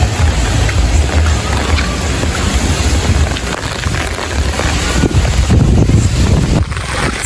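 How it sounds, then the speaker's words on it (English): Strong tropical storm wind roars and buffets the microphone continuously, loud and close, with gusty rumbling surges throughout. "Somebody please tell me where the breeze that come from."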